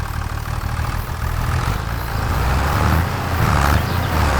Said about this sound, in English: I don't know if that tractor would be a little faster.